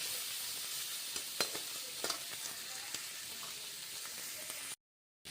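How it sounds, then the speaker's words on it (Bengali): Prawns lightly frying in a pan give off a steady, close sizzle with a few soft pops and stirring clicks, then the sound cuts out briefly near the end. "তো এবার আমি হালকা করে ভেজে নেবো"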